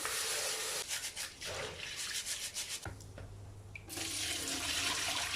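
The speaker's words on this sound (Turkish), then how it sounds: "Buğdayımı 3 su yıkadım." Wheat grains for aşure are swished and rinsed in water in a kitchen, giving a scratchy, rubbing slosh with irregular pulses and a faint tap hum, fairly close and without talk.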